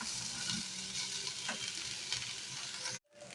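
Paneer sizzles and crackles in hot oil in a pan while being stirred, a dense close frying hiss with occasional scraping, for mixed veg fried rice, stopping abruptly near the end.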